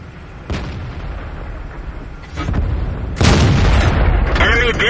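A tank being destroyed in the video game World of Tanks gives a loud, heavy booming explosion with a sustained rumbling blast, over ongoing battle noise and a voice.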